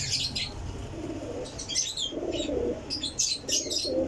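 Sialkoti Batera pigeons cooing softly in low, throaty bursts while wings flap and flutter nearby, with a few chirps over a steady background hum.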